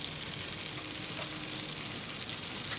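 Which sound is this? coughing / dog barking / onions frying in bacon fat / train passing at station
onions frying in bacon fat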